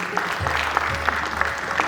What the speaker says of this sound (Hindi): उनके लिए भी जोरदार तालियां होनी चाहिए।